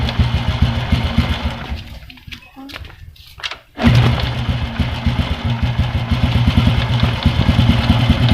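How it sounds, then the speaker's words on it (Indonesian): Motorcycle engine idling after its lost compression was restored, a close, steady low thrum that briefly drops out midway before resuming at full level. "Ya ini motor bisa nyala lagi ya teman-teman ya, karena kompresinya sudah dapat ya"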